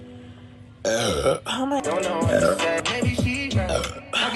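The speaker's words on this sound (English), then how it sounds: "Oh my god, who burped?" A person lets out loud burps close by, mixed in with excited talking and exclamations from others throughout.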